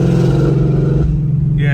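Ford Mustang S550 engine at half throttle, running rough: a loud, close, low uneven drone that fades and turns thinner toward the end, with a brief higher tone at the close.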